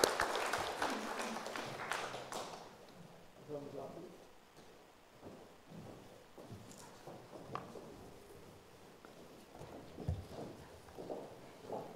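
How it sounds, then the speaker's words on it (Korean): A church congregation at a Korean family Sunday joint service and award ceremony breaks into applause, a dense burst of clapping at the start that thins out, followed by scattered claps and murmuring voices. "서로 축복하고 격려하는 박수 다시 한번 해주시면 고맙겠습니다"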